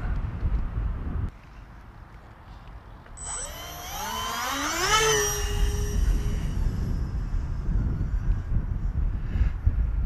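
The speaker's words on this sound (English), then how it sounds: "Twin motors give it heaps of power" A Sonic Modell Binary RC model plane with twin electric motors, flying in wind. A high, whining motor tone sweeps upward, peaks and then fades, over steady outdoor wind rumble.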